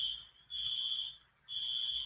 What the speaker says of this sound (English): I'm pretty sure the fire alarm is going off inside of my hotel.